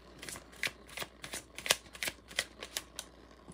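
A tarot oracle card deck being shuffled, giving quick bursts of crisp riffling and flicking cards in an irregular rhythm, close up and with no talking.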